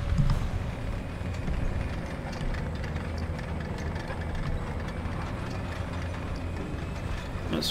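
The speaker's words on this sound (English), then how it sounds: "That's friendly engine noises." Friendly tank engine idling in the War Thunder video game, a steady low rumble that holds level throughout with faint mechanical rattling on top, close and continuous with no talk.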